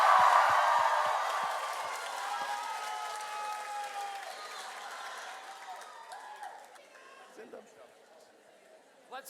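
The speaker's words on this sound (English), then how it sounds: "Let's give another round of applause to Pakistani Mastani." Audience applause for a Pakistani Mastani dance performance on stage at the Rangila show: dense clapping at the start gradually thins and fades over several seconds, with crowd chatter and scattered voices mixed in.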